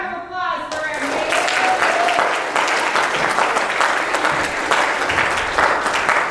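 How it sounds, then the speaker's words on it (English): Audience applause at a middle school theater performance, a dense crowd clapping that swells after a brief voice and holds steady and loud for several seconds, with a few cheers mixed in. "a round of applause for our"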